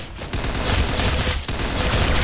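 Rapid gunfire in the online shooter game Arsenal, a dense, loud, continuous burst of shots.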